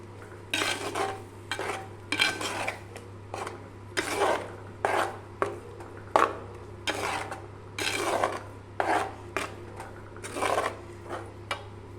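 A spoon scrapes and stirs coconut, onion and tomato paste into a crab curry in the pan: about a dozen steady, rhythmic rasping strokes, close and clear over a constant low hum, with no talking.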